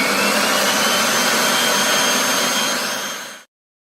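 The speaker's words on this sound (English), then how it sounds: "we're just going to mix that on fast for a couple of minutes" An electric mixer runs on its fast setting, beating a thick, gloopy chocolate fudge cake batter with a steady, loud whirring drone that holds for about three and a half seconds before cutting off abruptly.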